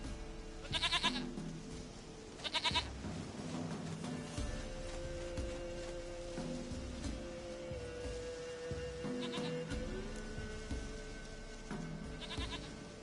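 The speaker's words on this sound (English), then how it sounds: "Goat of mine, dearest, sweetest goat" Goat bleats in The Witcher 3 video game, two loud quavering calls near the start and two fainter ones later, over a steady game background of low hum and ambient sound.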